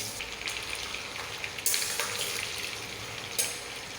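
Steady, loud sizzling of raw mango pieces frying in hot oil for pickle, continuous crackle with a couple of sharper spatters.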